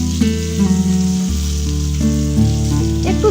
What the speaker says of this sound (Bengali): এক এক করে সবকটা মাছই আমি পাল্টে দিয়ে ওপর পিঠটাও ভেজে নেব।